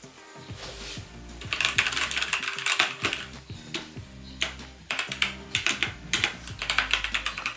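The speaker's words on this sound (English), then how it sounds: "For the sound, it's not that loud, but at the same time, it is noticeable if you type it in a work environment." Fast typing on a Tecware Phantom RGB mechanical keyboard with Outemu switches, a dense stream of clicky keystrokes with a few pauses, heard close with low background hum and no talking.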